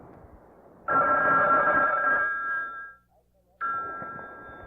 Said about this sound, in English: I hear the phone.